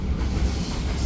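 A train passes at Cikampek station, heard from aboard a train: a steady low rumble and roar with faint rail clatter, no voices.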